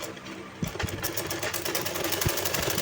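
A sewing machine stitches the side seam of a silk lehenga blouse, humming and rattling continuously at close range with a few sharper knocks mixed in.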